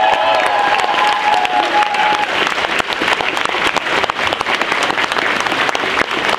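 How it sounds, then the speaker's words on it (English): Audience applause for guests on stage at a TFNation fan convention, dense and steady clapping filling the room for several seconds with a faint crowd murmur and a brief tonal sound early on. "Big round of applause, ladies and gentlemen,"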